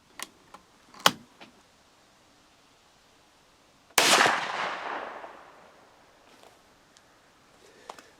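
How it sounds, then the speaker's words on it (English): A single loud shotgun blast from a Federal slug fired into ballistic gelatin cracks out suddenly and decays over about a second, with a few faint clicks and knocks before and after. "I'm going to take this last shell and shoot it into gelatin."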